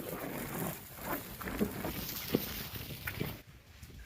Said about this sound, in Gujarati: પવન જોરદાર છે